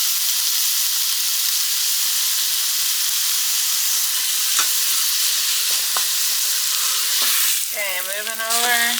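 Meat searing in a hot pan, a loud, continuous close sizzle and hiss carrying short sharp crackles, with a brief whistling squeal near the end.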